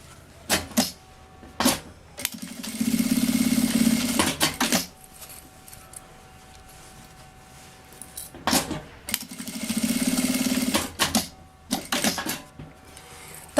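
A sewing machine stitches a children's backpack in two sustained runs of several seconds each. Between them come quieter clicks and handling noises.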